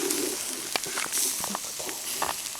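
Meat frying in a pan in a home kitchen gives off a loud, close, continuous hissing sizzle, with scattered clinks and faint background sounds over it.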